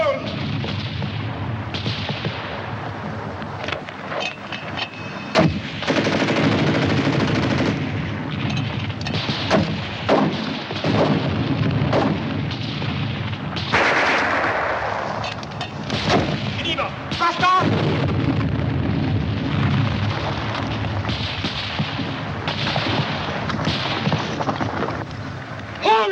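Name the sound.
gunfire and artillery in a 1951 war film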